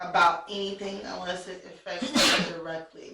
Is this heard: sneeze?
yes